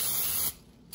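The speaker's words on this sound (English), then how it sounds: "I'm gonna go in and spray a little more" A short close burst of aerosol cooking spray hissing onto a cake pan for half a second, then a pause and the start of another spray.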